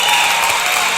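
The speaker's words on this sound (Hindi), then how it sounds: "तालियां गूंज उठी।" Applause rings out at an award ceremony as Madhuri Dixit is named the winner: a dense, steady wash of clapping that fills the whole short moment without a break.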